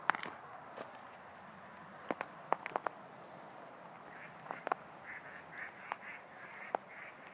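Ducks or other game birds calling sporadically at a distance while a Vizsla hunts them outdoors, with short sharp quacks and sounds scattered over a quiet background and a few brief clicks.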